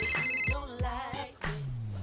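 A phone ringtone plays close and loud, a melodic electronic tune with repeated rising notes filling the whole moment.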